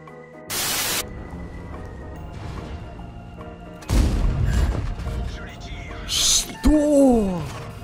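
Heavy tank cannon blasts boom in a World of Tanks battle, an AMX-30B firing, a sharp crack followed by rumbling explosions and debris, loud and close.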